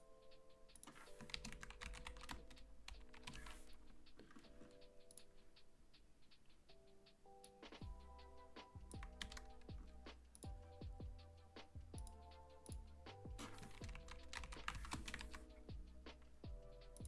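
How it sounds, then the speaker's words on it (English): Steady typing on a computer keyboard, with rapid clusters of key clicks and occasional heavier strokes continuing throughout at a low, close level, with no talking. "It's a bad week for typing, I can tell already."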